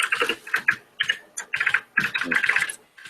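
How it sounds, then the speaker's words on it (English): Computer keyboard typing in bursts of quick clicky keystrokes with short pauses between, close and fairly loud, with no one talking. "Are you typing?"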